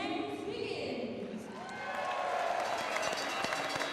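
A curling crowd applauds and cheers as the two teams are welcomed at the 2016 World Women's Championship gold medal game between Switzerland and Japan, a broad wash of clapping in an arena that swells steadily.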